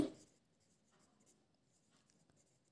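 An answer written by hand during a class 3 lesson: a brief louder knock, then faint, sparse scratchy strokes with short pauses, quiet and close, with no voices.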